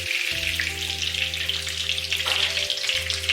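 Meat cutlets frying in a pan, a loud continuous sizzle and crackle with a steady low hum underneath, close and uninterrupted.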